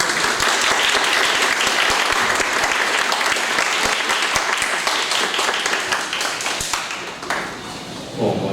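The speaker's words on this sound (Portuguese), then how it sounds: "Então vamos receber com uma salva de palmas." A room full of people at a lecture applauds a speaker steadily for several seconds, the clapping thinning and fading out toward the end.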